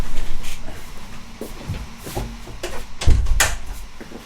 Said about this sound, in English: let me first close the door.